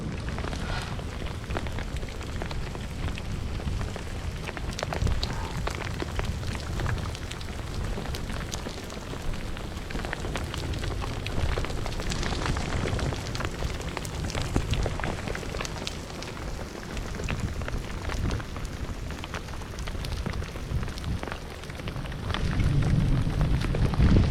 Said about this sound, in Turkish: Çok müthiş bir yağmura yakalandık.